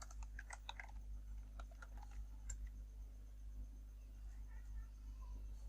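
Soft, close keystrokes tap out in a quick cluster on a computer keyboard, then slow to a few scattered clicks and fade over a steady low hum, with no one talking.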